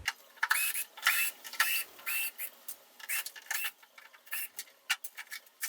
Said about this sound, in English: These are just Phillips, so let me get at them and pull them off before we get any further.